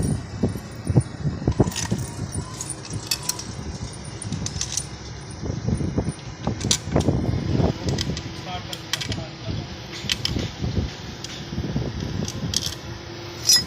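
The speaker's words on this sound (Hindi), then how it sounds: "और 8 mm की टामी से हम इसको टाइट कर देंगे।" Metal clinks and light ratchety clatter from an 8 mm wrench tightening the clutch cover bolts on a 70cc motorcycle engine, irregular and close, with scattered knocks over a steady background hum.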